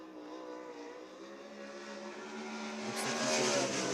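Sprint race car engine on a time trial lap at Port Royal Speedway, a steady droning tone that slowly climbs and gets louder as the car comes nearer, with no talking.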